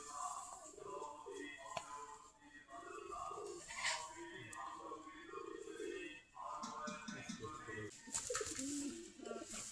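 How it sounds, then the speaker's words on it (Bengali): Native Deshi Giribaz pigeons coo steadily in a loft, a dense overlapping chorus of soft low calls with some busy background noise. "সবগুলা দেশি গিরিবাজ কবুতর।"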